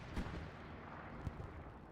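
Artillery fire in the online war game Hell Let Loose, a steady rumbling barrage with a couple of sharper booms near the start and middle, no voices over it.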